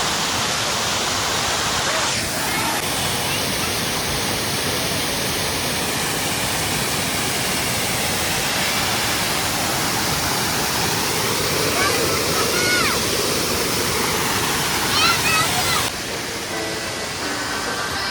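Cold outdoor stream water flows in a loud, steady rushing roar that lasts throughout, with faint voices under it.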